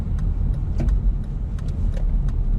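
A manual transmission car held in third gear, its engine giving a steady low rumble from inside the cabin with a few light rattles, loud and unbroken, with no talking.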